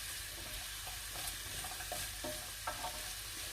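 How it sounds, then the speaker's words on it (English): Sausage browning in a frying pan gives a faint, steady sizzle with a few soft stirring knocks scattered through it. "So we'll leave that to brown. Look at that, sizzling away, it's lovely, making a lovely noise."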